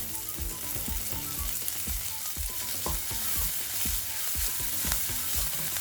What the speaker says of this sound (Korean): 이제 여기에 풍미를 추가해주기 위해서 버터를 넣습니다.